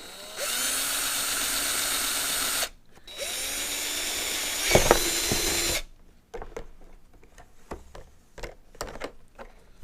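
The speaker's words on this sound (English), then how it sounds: "We'll just drill right into the old podcast table." A power drill whirs steadily in two long runs into a table, pausing briefly between them, followed by scattered clicks and knocks as the work settles.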